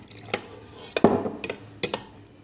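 A spoon stirs tender coconut sarbath in a vessel, giving a handful of bright metallic clinks and scrapes spaced irregularly, close and fairly quiet, with no talking.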